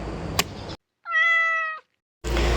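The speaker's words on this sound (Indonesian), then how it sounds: "Kalian pasti udah tahu dong suara kucing kayak gimana." A single clear cat meow rises and falls for about a second, isolated between short stretches of background noise.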